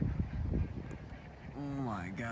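A flock of waterfowl honks on the Fox River in late January, the loud, near calls rising at the end after a stretch of low rumbling and a brief voice.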